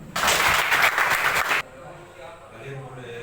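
Students in a junior high school classroom break into a burst of loud applause lasting about a second and a half, then it cuts off abruptly, leaving quieter room sound with faint voices.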